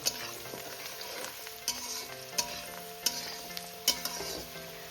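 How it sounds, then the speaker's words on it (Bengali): Potatoes lightly frying in a pan, a soft continuous sizzle with a spatula stirring and knocking against the metal roughly every second, close and fairly quiet. "আলুটা আমি খুবই হালকা ভাজবো সব সবজি আমি হালকা ভাজবো"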